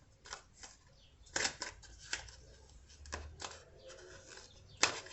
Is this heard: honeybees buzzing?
no